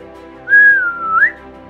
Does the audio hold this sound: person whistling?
yes